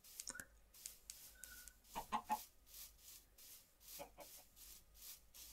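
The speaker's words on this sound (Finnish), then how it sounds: "Tää on kanoja." Chickens in the video game Minecraft cluck in short, soft bursts, with a brief cluster around two seconds and another near four seconds, over a faint game background with no talk.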